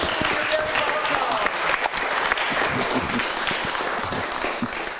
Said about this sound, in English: could we have a round of applause for our wonderful presenters?